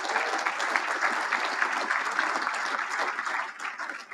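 Sustained applause from a large audience at a live event honoring golfer Tom Watson, a dense steady patter of many hands that holds level for several seconds before thinning slightly at the end.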